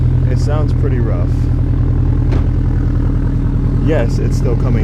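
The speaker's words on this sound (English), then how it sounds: "what you're hearing is the exhaust from the outside." Toyota 86 idling with a rusted-out exhaust section just past the muffler, a rough, steady low throbbing drone heard from outside the car, with someone talking over it.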